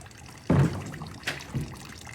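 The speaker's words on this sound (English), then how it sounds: "this has been the water leaking." Water leaking through a church roof splashes and trickles in a few irregular bursts, a louder gush followed by smaller dribbles over a low background hiss.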